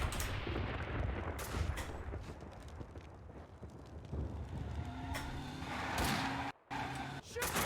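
Enemy gunfire in Max Payne 2 on Dead on Arrival difficulty, a dense run of shots and impacts over game sounds, loud throughout with a brief dropout near the end.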